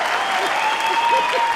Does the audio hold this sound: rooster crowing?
no